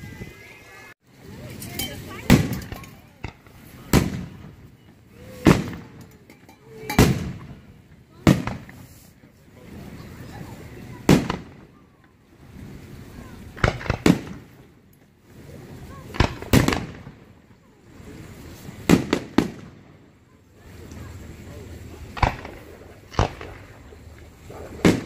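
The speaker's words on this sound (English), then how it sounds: "Fireworks on the way." Fourth of July fireworks burst outdoors, a steady sequence of sharp loud booms and crackles spaced a second or two apart, with distant rumbling between them.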